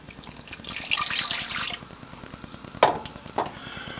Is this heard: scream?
no